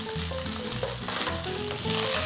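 Rice sizzles in a hot pan with ghee and spices for a pulao while being stirred, giving a close, continuous frying crackle with scraping under it.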